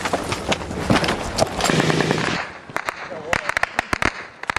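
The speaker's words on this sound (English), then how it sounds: "Definitely heavy machine gun fire coming from there." Heavy machine gun fire rattles in dense, loud bursts during a battle involving Marines in Afghanistan, then gives way to scattered sharp cracks, with voices heard amid the din.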